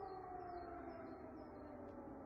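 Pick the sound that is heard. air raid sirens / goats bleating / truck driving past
air raid sirens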